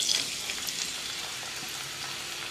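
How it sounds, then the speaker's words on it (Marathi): Onion, tomato, garlic, green chili and ginger fry in hot oil in a wok (kadhai), giving a steady, bright sizzle that holds evenly throughout with no voices. "आता या तेलात कांदा, टमाट, लसूण, हिरवी मिरची,"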